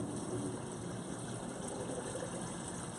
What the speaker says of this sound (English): All of the water gets pumped up into the big tilapia tank